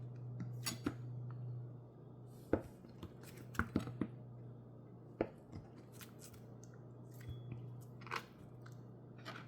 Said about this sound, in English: To cut the cheese, just go in.